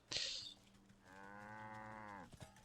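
A cow in the video game Wytchwood gives one drawn-out moo lasting over a second, clear and fairly close, after a short bright chime.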